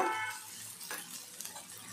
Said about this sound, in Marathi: दोन ते 3 मिनिटं हे वाटण आपण परतून घेतलेलं आहे.